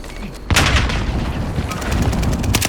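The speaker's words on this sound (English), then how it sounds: "Precision airstrike missed." Precision airstrike explosions in the Call of Duty Warzone video game: a sharp blast lands suddenly, followed by a dense, continuing rumble of booms and crackling gunfire, loud and close, with faint game voices mixed in.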